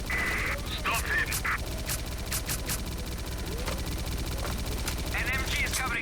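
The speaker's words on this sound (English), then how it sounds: "An MG is covering the ground floor." Machine gun fire in STALKER: Clear Sky, a steady rattle of rapid gunshots and distant bursts during a firefight, with voices shouting over the shooting.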